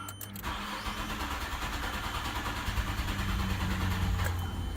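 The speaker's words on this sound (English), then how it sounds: "it never starts like that unless I clean out the throttle body" A 1996 Nissan Maxima with 235,000 miles cranks and fires just after a throttle body cleaning, its engine catching after a brief starter whir and then running loud and somewhat rough at a close idle.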